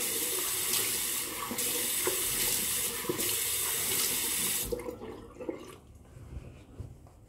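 Cold water runs steadily from a tap in a bathroom sink, loud and constant, then cuts off abruptly, leaving a quieter room with faint drips and small movements.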